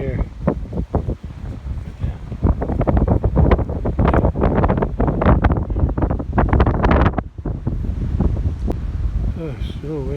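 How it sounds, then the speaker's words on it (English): A strong south wind roars and buffets the microphone outdoors on a farm, loud and gusting throughout, with brief speech heard at the start and end. "Strong south wind."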